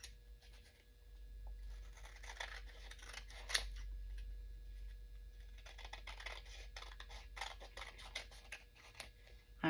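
Scissors snip through masking paper in quick, close, quiet cuts, a series of crisp short crunches over soft handling noise.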